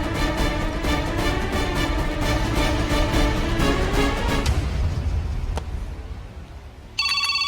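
Telephone ringing indoors, a loud repeating electronic ring that continues steadily, then fades away as a quieter tone appears at the end.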